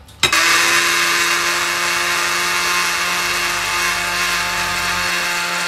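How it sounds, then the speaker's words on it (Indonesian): A blender grinding chili spice paste starts abruptly and runs steadily at full speed, a loud continuous whirring grind with no talking over it. "Kita blender dulu sampai dia halus."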